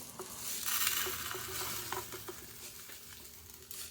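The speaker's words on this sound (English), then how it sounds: "let's get 1 cup of panko in a bowl" Panko breadcrumbs are poured into a bowl, making a soft, close, grainy rustle that swells early and then thins into scattered light ticks, with no voices.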